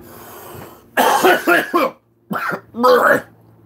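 Two harsh bursts of coughing, close up, the first a rapid triple hack, the second a shorter pair after a brief pause.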